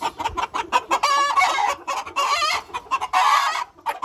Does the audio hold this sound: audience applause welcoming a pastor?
no